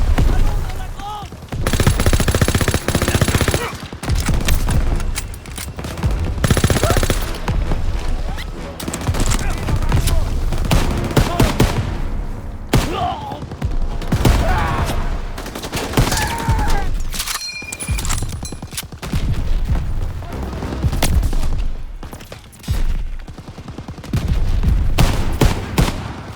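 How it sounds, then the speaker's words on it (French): Pak 38 anti-tank guns firing in a Call of Duty WWII battle, with loud, repeated bursts of gunfire and explosions layered over dense combat noise for the whole stretch, and voices faintly mixed in. "Les packs 38 nous tirent dessus."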